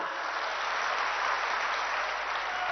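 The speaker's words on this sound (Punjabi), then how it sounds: "ਤਾੜੀਆਂ ਮਾਰ ਕੇ ਇਸ ਗੱਲ ਦੀ ਤਾਇਦ ਤਾਂ ਕਰੋ ਨਾ" Dense, continuous applause from a crowd at a political rally where CM Mann speaks on stage, a steady wash of clapping with no pauses.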